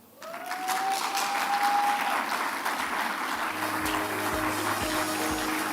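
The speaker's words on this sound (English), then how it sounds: "You will really clap for us" Applause from a conference audience at a data forum session, a sustained wash of many hands clapping that starts after a brief quiet moment and carries on steadily, with a faint tone and low thumps underneath.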